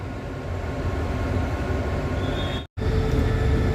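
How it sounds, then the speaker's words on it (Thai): Thai express train no. 32 from Bangkok to Hat Yai at Hat Yai Junction: a loud, continuous rumble and roll of rail wagons close by, broken by one brief dropout before resuming. "เป็นขบวนรถ ด่วนทักษินารักษ์ที่ 32กรุงเทพหาดใหญ่ครับ"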